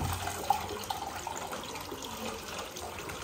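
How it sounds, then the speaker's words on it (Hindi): Water runs into an empty bottle, a soft continuous trickling and gurgling with a few small knocks, fairly quiet and steady for a few seconds. "अब खाली बोतल में पानी भर के इसको ना उसी जगह पर रख देते हैं"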